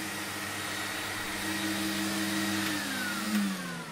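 Record Power Camvac wall-mounted dust extractor running in a woodworking shop, a steady loud motor whine and airflow roar with shifting tonal hums, then winding down slightly toward the end.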